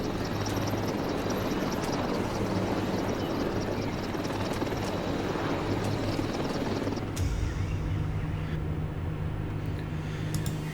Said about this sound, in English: the Eurocopter Tiger German attack helicopter has powerful stealth technology